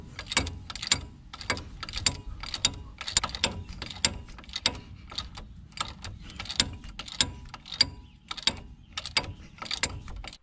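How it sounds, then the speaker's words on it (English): Ratchet turning a bolt on the front axle of a 2015 Ram 2500 4x4, a rapid, repeated clicking close by with brief pauses between strokes. "And put the ratchet on it and let's start turning this."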